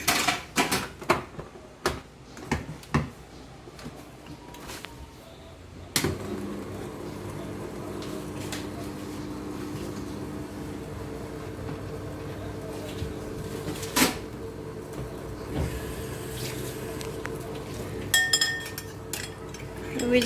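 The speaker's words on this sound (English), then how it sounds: "We're just going to switch on the mix master here." A Mixmaster stand mixer starts up and whips dalgona coffee in a bowl, a steady whirring drone after a few clinks and knocks, with occasional rattles as it runs.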